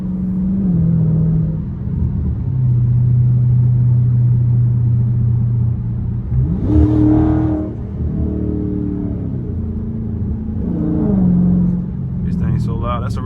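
A straight-piped Dodge Scat Pack drones loud and close on a highway, its exhaust rumbling steadily with swells as it revs and shifts, while people talk over the engine noise.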